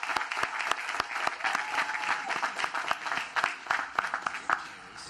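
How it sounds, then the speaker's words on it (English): A commencement audience at a South Carolina university in Orangeburg breaks into a sustained round of applause, dense claps with a few sharper individual hits standing out, steady and fairly full throughout. "Let's give him a round of applause."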